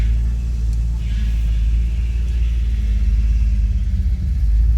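A boosted Mercedes W114 with a fuel-injected M103 engine pulls away in first gear, giving a loud, close, continuous low rumble from inside the car that swells gradually with no clear rev peaks.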